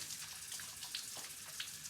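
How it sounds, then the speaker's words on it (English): Raw chicken rinsed under a running kitchen tap while making chicken and dumplings: a quiet, steady stream of water with soft splashes and small irregular gurgles as the meat moves through it. "And I run mine through the water and pull it out, kind of."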